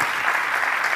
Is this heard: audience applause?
yes